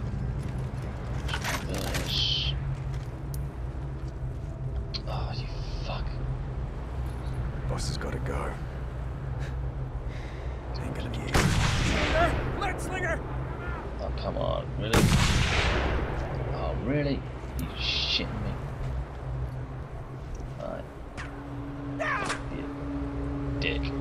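Sniper gunfire in the Mad Max video game, with loud sharp shots cracking out around the middle of the stretch over a steady engine-like rumble, while a voice talks over it.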